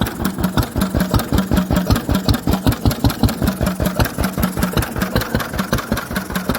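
A Lister B stationary engine with a coolant tank runs steadily on its first start in 40 years, a loud, close, regular rapid chugging beat of even thumps with no talk over it.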